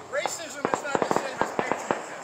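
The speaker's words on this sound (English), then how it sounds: "You hear the fireworks?" Fireworks going off outdoors: a quick run of sharp, separate pops and cracks at an uneven pace, fairly close, with people talking over them.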